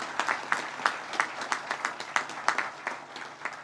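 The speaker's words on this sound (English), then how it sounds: "let's give a round of applause to the entire Pegula family" An outdoor crowd at a Buffalo Bills stadium groundbreaking claps for the Pegula family, a thin scattering of distinct claps rather than a dense roar, fairly light and somewhat distant.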